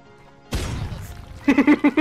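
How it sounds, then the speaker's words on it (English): Sheep from the Worms video game bleats in a quick series of short, nasal baas, following a loud broadband crash-like burst. "And a sheep!"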